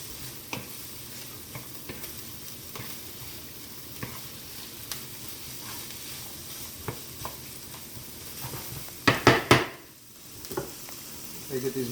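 A chicken and vegetable stir fry sizzles steadily on a flame thrower grill as it is stirred fast, with scattered scraping clicks and a burst of louder clattering tosses near the end; no one talks.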